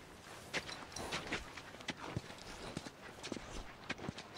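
Horse hooves in The Last of Us clip-clop in an uneven walking rhythm, moderately quiet and nearby, with soft game ambience behind them.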